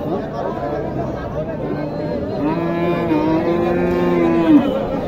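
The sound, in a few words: cow mooing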